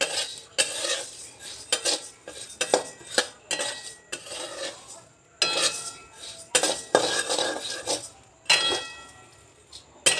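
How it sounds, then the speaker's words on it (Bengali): Coriander seeds dry roasting in a pan, heard as loud, busy scraping and clattering of a spoon against metal in irregular bursts, close up with no talk. "লাস্টে ভাজছি ধনিয়া।"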